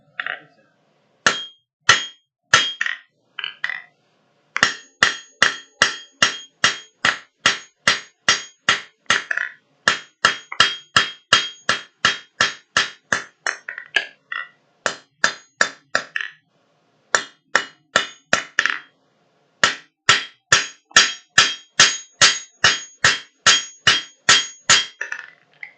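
Cross peen hammer striking a piece of metal in quick, evenly spaced ringing blows, loud and close, falling in several long runs separated by short pauses.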